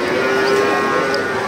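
A cow at a cattle market gives a loud, close, sustained moo that fills the short moment without a break, with no one talking over it.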